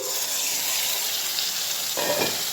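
Loud, constant sizzling of onion, ginger, garlic and green chilli frying in a pan, with a fresh hiss and rustle near the end as chopped mustard greens are tipped in.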